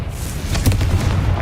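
Confringo fire-blast spell in Hogwarts Legacy on PC, a single loud, close booming explosion with a heavy low rumble that swells and lingers briefly.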